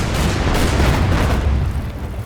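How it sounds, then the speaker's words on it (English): Naval guns firing in the wartime strategy game Order of Battle: Kriegsmarine, a loud, deep, rumbling boom that sustains throughout with a heavy low-end roar. "he can already start opening fire on that enemy artillery"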